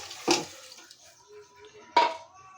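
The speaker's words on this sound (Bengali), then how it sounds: "আমি ওখানে একটু জল দিয়ে দিব" A splash of water is poured into a cooking pan while bitter gourd curry cooks, two short clattering bursts of metal and liquid about two seconds apart, fairly close, with quiet kitchen sounds between.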